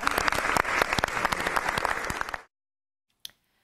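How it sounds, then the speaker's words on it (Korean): Dense applause from a crowd fills the first two and a half seconds with steady clapping, then stops abruptly, followed by silence and one brief knock near the end. "박수 한번 제가 좀."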